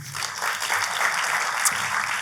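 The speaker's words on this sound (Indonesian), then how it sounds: "Kita kasih tepuk tangan." A church congregation breaks into applause during a sermon, a brief burst of many hands clapping at moderate volume that holds steady for a couple of seconds.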